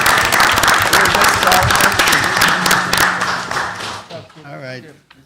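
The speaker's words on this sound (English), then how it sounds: "Let's give her another round of applause." A crowd at a city council meeting claps loudly and steadily, the applause tapering off near the end as a voice begins speaking.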